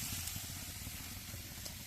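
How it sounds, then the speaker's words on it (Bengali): Dried lotte fish (shutki) fries in a pan over low heat, giving a soft, steady sizzle and hiss with faint crackles, quiet and continuous. "আস্তে আস্তে শুটকির গায়ে যে পানিটা কমে যাবে এবং শুটকিটা ভাজা হবে সুন্দর করে ভাজা হবে"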